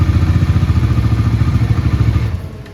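A Bajaj Dominar 400 motorcycle engine thumps rhythmically and close, running unevenly for a moment before the pulses weaken and it dies out.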